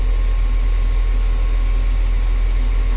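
A freshly overhauled CAT 950H wheel loader's engine idles steadily after a cold start, a loud continuous low rumble with a slight rise and fall in revs and no voices.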